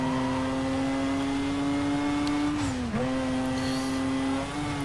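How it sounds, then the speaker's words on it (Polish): A Mazda engine in Need for Speed Most Wanted (2005) holds a steady, loud drone, with a brief dip in pitch near the third second before it settles back, continuous and close throughout. "Kurde, ten silnik jej to zawalisty jest normalnie."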